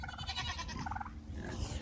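Goats at a homestead shed bleat in a couple of wavering, nasal calls close by, loud against an otherwise quiet yard, with no talk.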